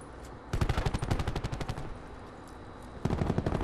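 Rapid automatic gunfire in Call of Duty: Black Ops 4, a loud sustained burst of close shots, a pause with low background rumble, then another burst starting near the end.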